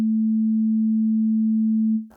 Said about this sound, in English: I created minimalistic sounds based on sine waves